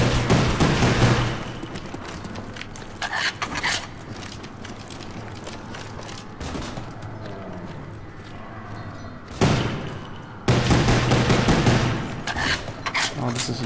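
Dense gunfire in Call of Duty Zombies on the Kino der Toten map, mixed with pistol shots, comes in loud sustained volleys that drop to quieter stretches and then surge again, with game background noise in between.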